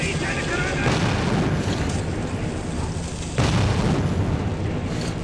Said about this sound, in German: Fresst alle Granaten!